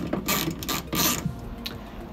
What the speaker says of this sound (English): So we'll take our trusty Torx ratchet that we have.